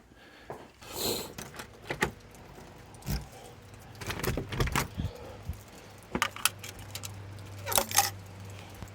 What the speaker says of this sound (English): I'll get those keys locked up.